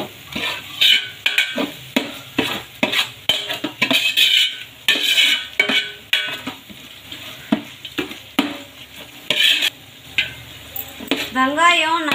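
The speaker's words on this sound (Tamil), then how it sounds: "வெங்காயம் நல்லா இந்த மாதிரி எண்ணெயே நல்லா வதக்கிட்டோம்" Onions frying and being stirred in oil for a homemade chicken biryani, with repeated close clinks and scrapes of a spoon against the pan over a soft background sizzle. Bursts of talk come in between.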